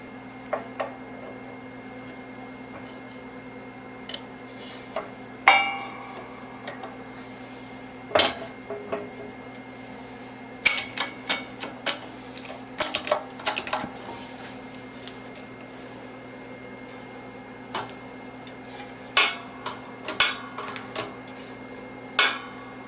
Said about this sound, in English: And we have this little dimpling tool here. So we're going to stick that in here and create the dimple.